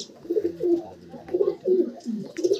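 Racing pigeons of a pure Calcutta bloodline coo in their home loft, a close series of soft, rolling, repeated coos that pulse in a steady rhythm.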